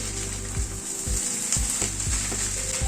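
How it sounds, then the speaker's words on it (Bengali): Boiled potatoes are sautéed with fish and spice mix in a pan for fish chops, giving a constant close sizzle with rhythmic scraping thuds of stirring every half second or so, without talk. "আলুটাকে ভালো করে মিশিয়ে নিচ্ছি, মানে আলুটাকেও মাছ মশলার সাথে একটু কষিয়ে নেব।"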